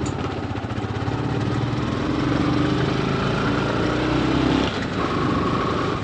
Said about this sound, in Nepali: बाइकको त पुरै साउन्डै चेन्ज भइसक्यो।